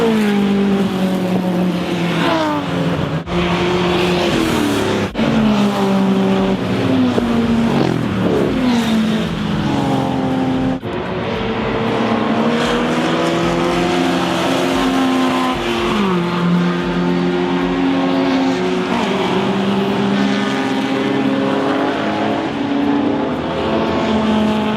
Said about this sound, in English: I can actually see all the cars going past.